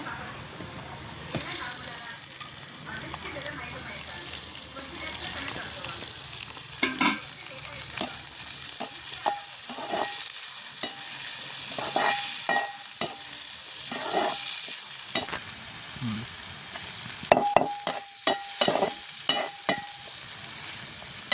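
Steady sizzling of onions and tomatoes frying in a pan, with occasional stirring clatter and scraping, close up; brief talk and clinks near the end.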